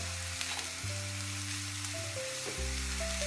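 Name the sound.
stir-frying bakcang filling in plenty of oil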